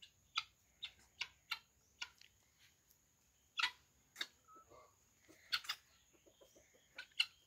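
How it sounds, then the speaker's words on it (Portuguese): Guinea fowl and chickens on a rural farm after rain let out short, faint clucks and clicking calls at irregular intervals against a quiet background. "A galinha também tá junto."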